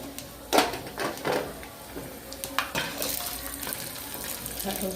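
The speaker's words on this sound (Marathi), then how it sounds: "छान असा मसाला भाजून घेणार आहे मी आता" Ground masala spices roasting in hot oil in a pan for a village-style spicy drumstick curry, a steady close crackle and hiss with several sharper spatter bursts and stirring clatter.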